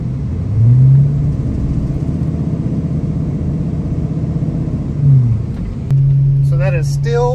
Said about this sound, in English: So that is still a no on a burnout, even with smaller tires.